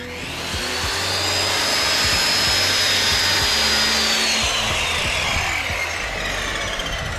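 Loud, steady whine of a power saw cutting a straight line through wood, running continuously close by with a grinding, buzzing edge for several seconds.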